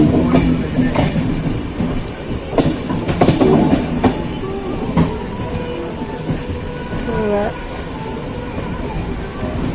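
Kanyakumari superfast express train pulling into Nagercoil Junction, its wheels clattering over rail joints with brief metallic squeals and rumble, fairly close and steady throughout.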